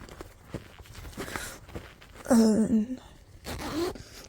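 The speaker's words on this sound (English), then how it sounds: "let's unzip it here" A zipper being pulled open on a red Ipsy makeup bag, a short close rasp lasting under a second after some light handling rustle, with a brief soft scrape following.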